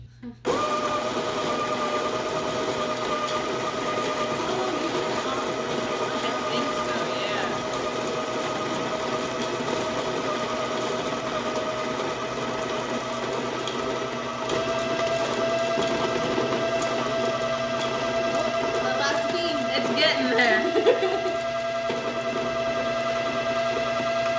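A Baratza Encore or Capresso Infinity burr coffee grinder running continuously on beans at a coarse setting, with a steady motor whine and a faint grinding rasp, close and unbroken.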